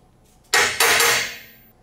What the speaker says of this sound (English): Then you can use this part as a hammer.